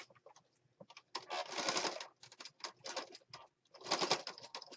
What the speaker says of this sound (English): So I'm just going to stitch down the side here